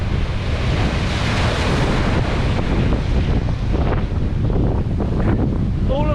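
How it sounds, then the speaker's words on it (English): Large ocean waves break on the shore at Lulworth Cove, Dorset, in a loud, continuous roar of surf, with heavy wind buffeting the microphone throughout. "All of a sudden the waves have picked up, and that really took me by surprise."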